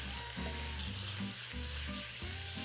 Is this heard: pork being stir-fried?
yes